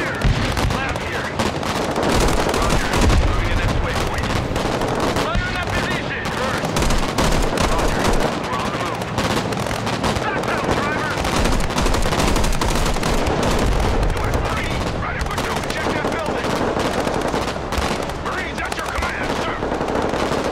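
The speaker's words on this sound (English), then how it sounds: "Shots over here." Sustained automatic gunfire and rifle shots crackle through a Broken Arrow battle over an island, dense bursts repeating loudly for the whole stretch with a low rumble beneath, no voice over them.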